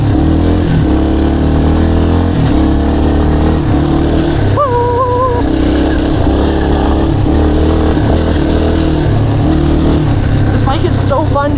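A dirt bike engine revving on a trail, loud and close, with a steady mid-pitched drone and shifting throttle, while someone talks over it much of the time.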